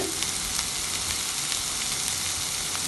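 Kashmiri chili and turmeric sizzle in hot oil in a pan, a steady, close frying hiss with faint crackles that runs the whole time with no talk.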